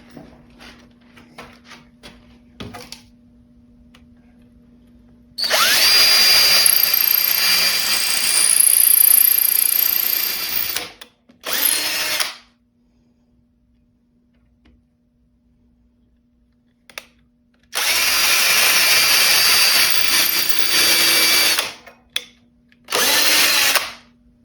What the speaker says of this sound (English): We're going to drill some holes into it and add some screws.